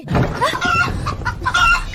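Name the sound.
rooster clucking, big-combed rooster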